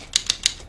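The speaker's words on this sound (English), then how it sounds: "you write on their magical typewriter" Three crisp typewriter keystrokes clack in an even, quick rhythm, close and distinct over a faint background.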